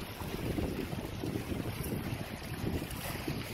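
Coastal flood water spills across a field and rushes over rocks in a steady, dense roar, heavily mixed with blustery wind buffeting the microphone outdoors.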